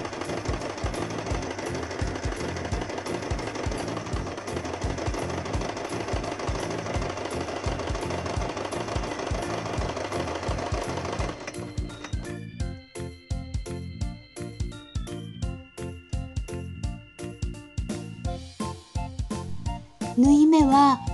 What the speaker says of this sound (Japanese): 家庭用ミシンのジグザグの目盛りで縫います。